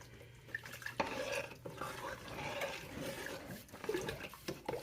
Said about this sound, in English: We'll give this a good stir.